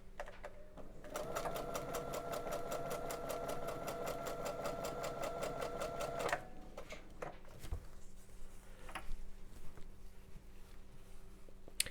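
A sewing machine stitches gingham quilt fabric in a fast, steady run of rapid needle ticks for about five seconds, then stops. Afterward come softer handling sounds and brief clicks as the fabric is readjusted.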